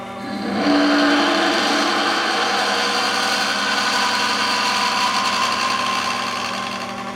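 A lathe running at low speed, around 700 RPM, reams a Pyrex glass test tube with cutting fluid, giving a steady, close machine drone and hum that holds level throughout with no talking.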